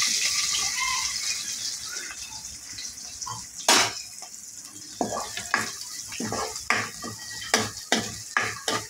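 Curry leaves and chopped onion fry in hot oil for a crispy pohe dish, with a steady low sizzle broken by repeated sharp scrapes and clinks of a spoon stirring the pan, no voices.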